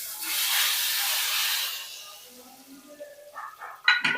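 A hot tempering of garlic and whole red chilli hits cooked masoor dal with a loud sizzling hiss that bursts up and fades over two seconds, followed by quieter bubbling and a voice speaking.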